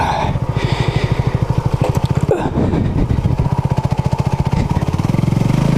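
A Honda CB250RS motorcycle engine pulses in a steady, rapid putter while riding through leaf-covered ground, loud and close, briefly dipping and rising as the throttle eases and returns.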